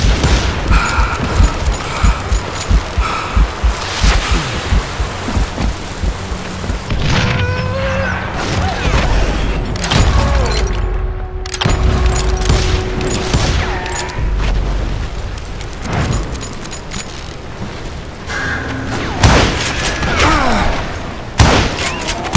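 A gunfire shootout in Call of Juarez Gunslinger, rugged Chiricahua country, with a long, continuous run of loud shots, heavy booms and thuds, some ricochets and echoing tails layered densely throughout.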